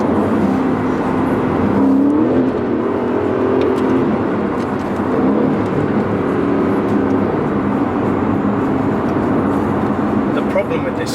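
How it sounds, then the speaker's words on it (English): Aston Martin V8 Vantage accelerating hard on the road, a loud continuous engine roar with exhaust crackle heard from inside the car, under steady speech. "to accelerate that fast for the pops and bangs to come"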